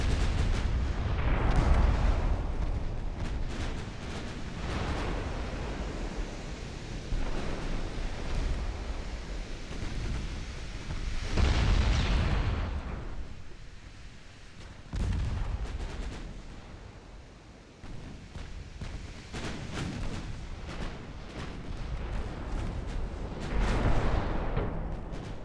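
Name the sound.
naval battleship gunfire in Ultimate Admiral: Dreadnoughts video game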